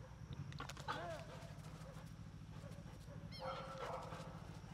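A dog in a tracking training session gives several short barks and yips near the start and again later, at moderate distance outdoors, while people talk intermittently over the low background.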